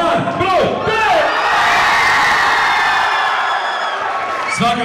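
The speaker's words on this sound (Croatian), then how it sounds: "I koliko vas u dvorani navija za par broj 5?" Students packed into a school hall roar for pair number five, a loud continuous wash of shouting, whooping and cheering close by that holds for several seconds before easing.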